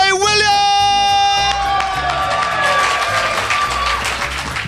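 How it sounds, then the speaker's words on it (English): A studio audience bursts into loud, sustained applause and cheering as a comedian is welcomed onto a stage in Auckland, with a brief musical flourish at the start fading beneath the dense, continuous crowd noise. "Thank you for clapping, I appreciate it."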